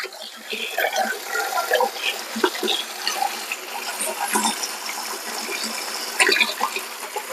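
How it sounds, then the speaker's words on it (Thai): Water gushes strongly from a water filter faucet, a continuous hissing splash with fluctuating intensity and occasional brief clunks, heard fairly close throughout. "เดี๋ยวก็จะเปิดน้ำอ่าเดน น้ำมาแรงอยู่นะครับเห็นไหมครับ"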